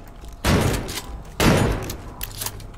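Gunfire from weapons in the video game The Backrooms comes in two loud, close bursts about a second apart, each trailing off briefly, with no talking.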